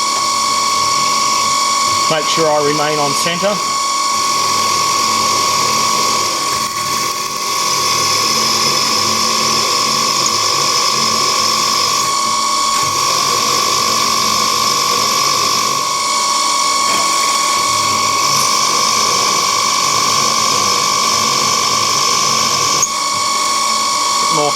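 A machine drill bores an 8mm hole in a metal vice handle, a loud steady tonal whine with grinding texture throughout, and someone briefly speaks over it early on.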